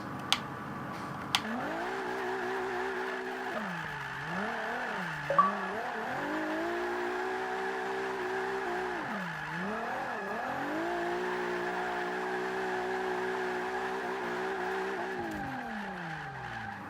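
A Nissan GT-R R35 drift build in Forza Motorsport 5, its engine droning steadily while tires squeal through long sweeping slides, the pitch rising and falling in waves as the car brake-drifts through a corner, with a few sharp clicks over it.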